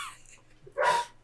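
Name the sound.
dog barking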